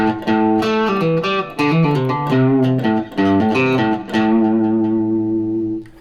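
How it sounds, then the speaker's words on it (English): An electric guitar plays aggressive distorted chords with the volume knob rolled back, a loud riff of sustained strummed notes ending on a ringing chord. "they might use the volume knob to control the amount of distortion"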